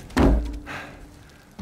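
Diving gear, including an air tank, tossed down in the video game Uncharted 4, landing with one loud, close, heavy thunk, followed by a softer shuffle and a small knock at the end.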